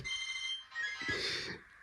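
A phone ringtone plays a bright electronic melody, fairly faint, with a few soft background sounds under it.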